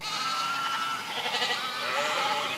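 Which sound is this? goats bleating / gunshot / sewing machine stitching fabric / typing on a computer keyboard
goats bleating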